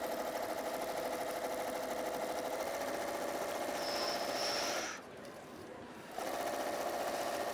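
A sewing machine stitching a patchwork border runs with a steady mechanical hum, pauses briefly, then starts up again, close and fairly quiet.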